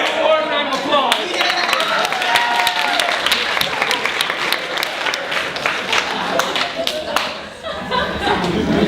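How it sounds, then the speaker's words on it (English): An audience claps and applauds at a live comedy show, a dense burst of hand claps mixed with some laughter that holds steady before tapering off. "Warm round of applause."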